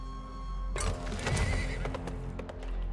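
A horse in the Weird West video game gives a loud whinny while hooves clop in an uneven rhythm beneath it, the neigh rising sharply then trailing off among scattered hoofbeats, with no talk.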